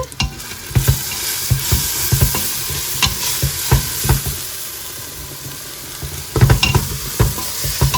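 A spoon scrapes and stirs mutton biryani in a pot, giving close, steady scraping strokes over a continuous sizzle, with no voices.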